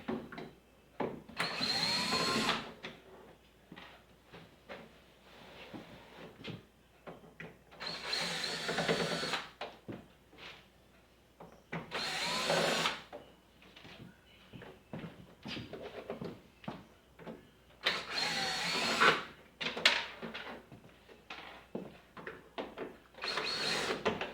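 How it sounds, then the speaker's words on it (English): Loud bursts of a power drill whirring in repeated runs, separated by short pauses with softer handling noise in between. "Especially if you got a power drill like this guy."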